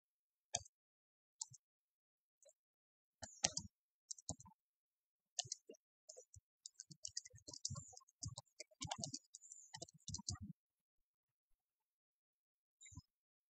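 Computer mouse clicks, quiet and close, come as isolated single clicks early on and then as a dense irregular run of rapid clicking before falling silent near the end.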